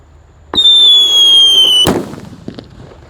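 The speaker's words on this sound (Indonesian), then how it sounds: "ini ada mercon yang terbesar, yang paling kencang suaranya, namanya mercon Rambo" A sharp fizzing whistle rises for over a second, then a single loud bang of a big Rambo firecracker set off in the ground, followed by scattered crackling debris.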